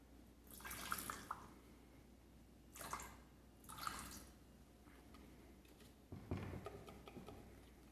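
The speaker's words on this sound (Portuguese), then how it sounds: "Eu vou pegar a água aqui do meu meio de cultura para lavar esse meu" Culture-medium water drips and splashes into a small cup being rinsed out, a few separate bursts of trickling with quiet gaps between them.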